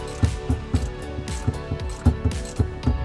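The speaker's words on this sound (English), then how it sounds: "Install the bolt." A ratchet wrench tightens the bolt on an RV battery cable terminal while a Renogy 200Ah AGM battery is fitted. Steady, rhythmic clicking sweeps sound close by, with no talk.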